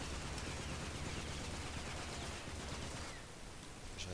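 Dense, continuous automatic gunfire from the shooter video game Rage, a harsh sustained rattle of overlapping shots that fills the clip at moderate level without speech.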